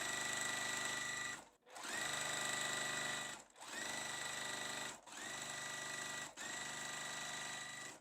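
A sewing machine runs in long steady bursts stitching the bottom piece onto a house-shaped quilt block, whirring loudly and evenly with short pauses between runs, close by with no talk.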